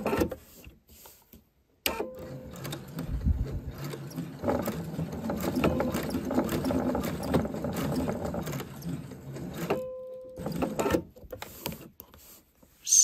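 A sewing machine fitted with a zipper foot runs a short line of stitches and a backstitch across fabric, a steady close mechanical whirr of about eight seconds, then a brief second burst.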